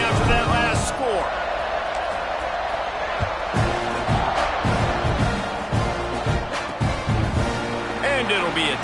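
Stadium crowd in a college football video game buzzes steadily after a score during a Kentucky game, a dense roar with swelling cheers under near play-by-play commentary.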